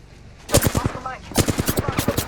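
Rapid automatic gunfire in Apex Legends comes in two loud bursts of evenly spaced shots, with a short gap and a brief electronic tone between them.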